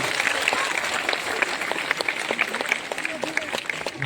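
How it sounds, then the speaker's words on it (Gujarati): Steady applause from an audience at a village school's Independence Day flag-hoisting in Budhel, a dense, even patter of many hands that carries on throughout with a faint voice underneath. "આપણે એમને જોરદાર તાળીઓથી વધાવીએ"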